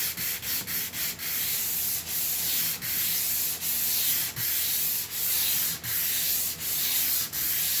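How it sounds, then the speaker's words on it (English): Sandpaper rubbed by hand across a wooden table after its finish has been stripped, giving repeated rasping strokes, quick at first, then an even, steady back-and-forth rhythm, close and clear, with no speech. "just enough so that the sandpaper smoothens your wood out"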